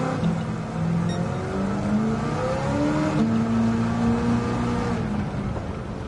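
A heavy car's engine in Gran Turismo 7, a Superbird with an engine swap, revs and climbs through gears on track, a loud continuous racing roar with rising pitch sweeps.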